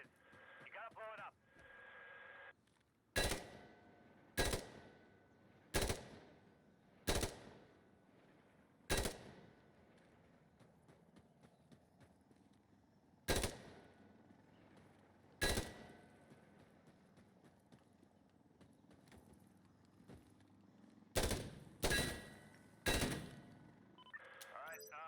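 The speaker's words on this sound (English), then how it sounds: "I'm Firing from the hip" A video game firearm fired from the hip: about a dozen sharp single shots spaced irregularly across the clip, with a quick cluster of three near the end. Each shot is loud and close over a quiet, faintly hissing background.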